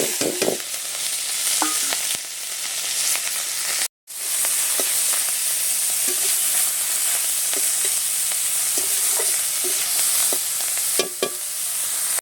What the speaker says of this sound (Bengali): এবার আমি চিংড়ি মাছগুলো একটু হালকা করে ভেজে নেব।